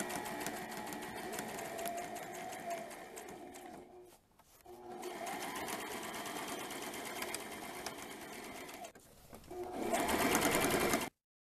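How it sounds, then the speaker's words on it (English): A sewing machine stitches a half-inch seam on a dirndl blouse with a square neckline. Its fast, steady whir runs close and continuous, broken by two short pauses, then speeds up louder near the end before stopping abruptly. "I'm going to sew this 1/2 inch seam allowance"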